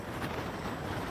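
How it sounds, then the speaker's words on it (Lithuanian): Strong gusting wind at a new house, blowing steadily and loudly as a broad continuous rush with no pauses. "Vėjas tai eik tu mačiut."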